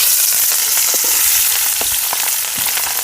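Green chilies fry in hot oil in a pan for egg dum biryani, a loud continuous sizzle with scattered crackles and pops from start to finish.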